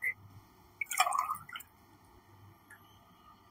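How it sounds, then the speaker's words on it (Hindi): Water is poured onto sugar in a bowl while making a tamarind and plum sharbat. It gives a short splash and trickle, then faint drips in a quiet kitchen. "चीनी में डालेंगे पानी।"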